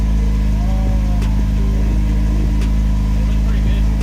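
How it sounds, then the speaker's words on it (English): A BMW E46 ZHP with an Active Autoworks exhaust sits at a cold start, giving a loud, steady, deep idle drone with a low throb, up close, while people talk over it. "Auto Works exhaust cold start for the vlog."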